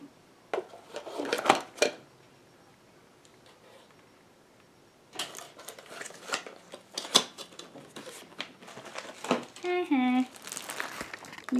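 Plastic wrap and tape being torn and peeled off a glass cup from a nail kit, crinkly rustles in short bursts with a quiet pause, then busier crackling and ripping as a voice talks alongside.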